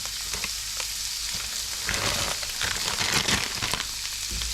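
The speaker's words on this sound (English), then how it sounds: "now we have our boiling water, and the noodle will go inside like this" Korean spicy noodles drop into a pot of boiling water, close up, with a steady bubbling hiss and scattered crackles that swell into louder churning and clatter midway.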